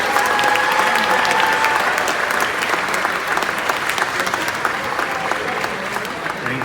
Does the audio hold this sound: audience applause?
yes